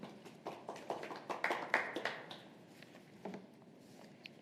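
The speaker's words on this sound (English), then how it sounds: "That was definitely worth an applause" A small audience at a Calgary cabinet task force press event gives brief, sparse applause, a few seconds of scattered claps at moderate distance that fade out into quiet room noise.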